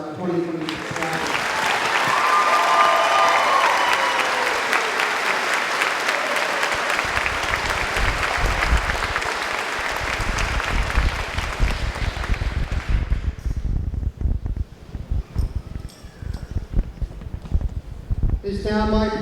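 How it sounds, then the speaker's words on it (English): A crowd at a graduation class night claps loudly and steadily, the applause tapering off after about twelve seconds into scattered claps and some background shuffling. "Want another round of applause for our 2026 class."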